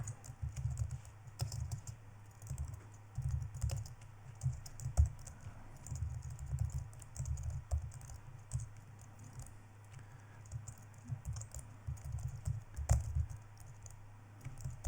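Rapid keyboard typing while writing Python Flask API code, a steady patter of clicks with occasional louder keystrokes, close and continuous over a low background hum, with no talking.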